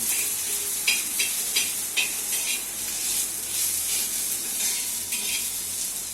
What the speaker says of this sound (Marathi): सगळं असं मॅश करून घ्यायचं, मिक्स करून असं.